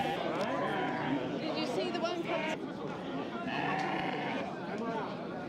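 Sheep bleat amid a busy Moroccan livestock market, their calls rising over steady crowd chatter and voices that run throughout.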